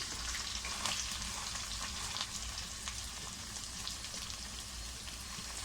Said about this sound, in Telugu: గ్రీన్ చిల్లీస్ హీట్ అయిన తర్వాత ఆనియన్స్ వేసుకుందాం